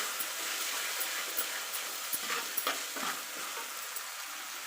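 Ground small-onion paste sautéing in a pan for a Tamil fish curry (meen kulambu), a constant close sizzle with a series of quick stirring scrapes in the middle, moderately quiet and without talk.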